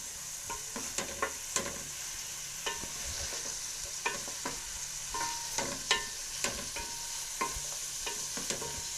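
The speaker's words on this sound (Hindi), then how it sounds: "ये प्याज हमने इसमें डाल के 2-3 मिनट इसमें पकाना है" Half a kilo of onions frying in a pot, a steady quiet sizzle punctuated by intermittent scrapes and clacks of a spoon stirring, close and without talk.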